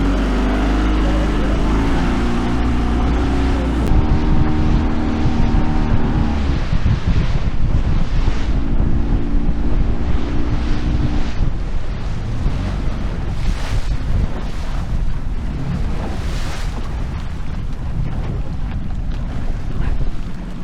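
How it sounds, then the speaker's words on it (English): Strong wind roars steadily over open sea aboard a small fishing boat hauling crab pots in rough water, with waves and hull noise mixed into the constant loud gusting. "I think that wind has eased up just a little bit."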